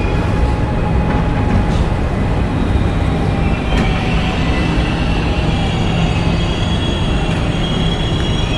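A Dutch intercity train runs steadily for several seconds, giving a loud continuous rumble of wheels on rails. A faint high squeal rises briefly partway through, and no one speaks.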